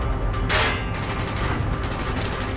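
Bursts of rapid gunfire from Call of Duty: Black Ops crackle in quick succession, loud and close, including a sharp sustained volley, with no talking.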